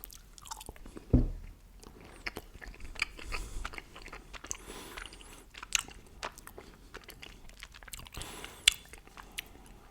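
Chocolate is bitten and chewed right at the mic, with sharp crunchy bites standing out over soft, wet chewing across a quiet background and no voice.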